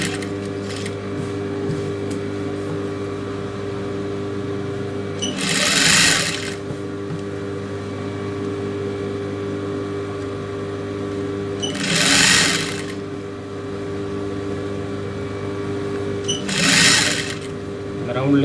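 A tailor's sewing machine stitches the neck hem of a folded silk pavadai skirt in three short bursts of rapid needle clatter, separated by pauses filled with a steady motor hum and background tones.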